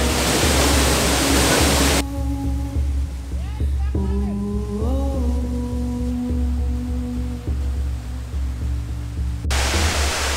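River water rushing over a crossing on a hiking trail to Kulugu Waterfall, a loud steady broadband roar at the start and end, with a quieter middle stretch where a voice speaks over the flow.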